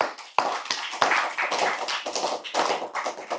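An audience claps during a religious lecture, a dense burst of hand claps that starts sharply and carries on steadily with no talking over it.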